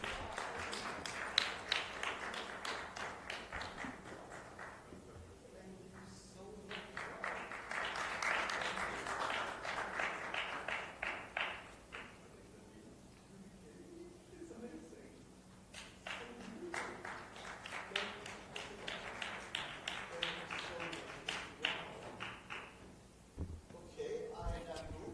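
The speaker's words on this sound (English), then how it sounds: "A round of applause, please." Audience applause at a design week event at a university in Ahmedabad rises in long, dense waves of clapping, fading and swelling again, with people talking underneath.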